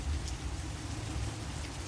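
Steady rain falls around an old porch surrounded by trees, a continuous close hiss with a low rumbling undertone and no talking.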